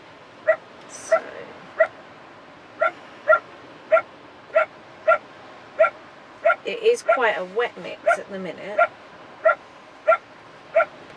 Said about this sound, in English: As you can hear the dogs outside.